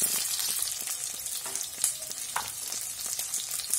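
Onion and green chillies frying with egg in oil, a steady close sizzle with light scraping clicks from a stirring spoon scattered through it.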